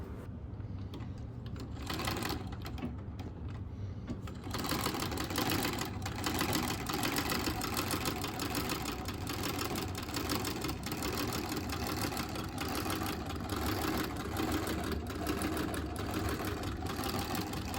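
A vintage sewing machine runs steadily with a fast, even mechanical clatter, starting a bit softer and then whirring continuously at close range.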